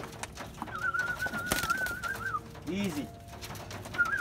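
Pigeons in a loft coo softly close by, low throaty calls under someone speaking briefly, with a thin whistle-like tone running through.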